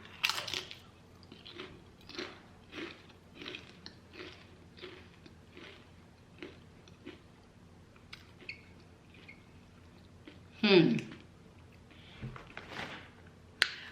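Close-up crunching of chips, a steady series of about a dozen crisp bites and chews in a quiet room, with one louder crunch near the end.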